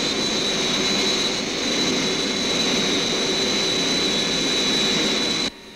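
Thunderbirds craft jet engines roaring at liftoff, a loud, steady, broadband rush that holds for several seconds before cutting off abruptly near the end, with no voices over it.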